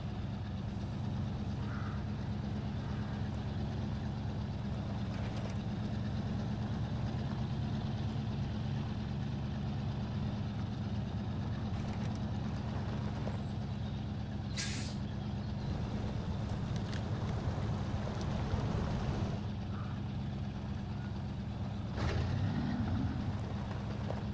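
A truck's engine in SnowRunner drones low and steady as its wheels dig into mud, a continuous rumble with faint intermittent clanks, with no talk.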